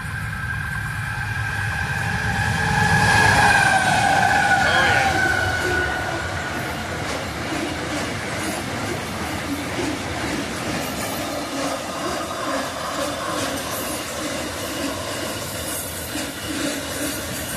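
Freight train locomotive powering up a very slight uphill gradient, heavy engine rumble building and peaking early with a bright squealing whine, then a steady rolling rumble of rail cars continuing nearby.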